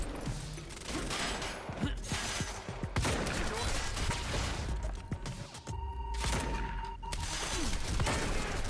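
Shotgun blasts in the Quantum Break video game, several sharp booming shots amid a busy, dense gunfight, with a voice talking over the action.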